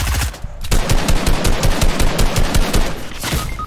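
Rapid bursts of automatic gunfire in a video game firefight, loud and close, with repeated rattling shots filling nearly the whole stretch after a brief lull near the start.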